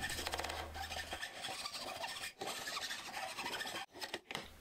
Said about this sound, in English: Some crude jigsaw action, bit of a file down.